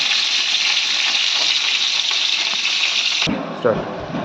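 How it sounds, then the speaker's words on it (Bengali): Sliced pointed gourd (potol) stir-frying in a little oil, a steady bright sizzle that runs for a few seconds and then cuts off abruptly, followed by faint clatter. "একটু তেলে হালকা পটলটা নেড়ে নেব"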